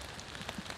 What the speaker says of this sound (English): just enjoy the rain